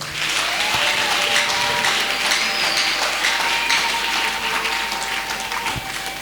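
A church congregation at a Sunday service claps and acclaims, with dense steady applause and a few sustained tones from instruments or voices running over it throughout.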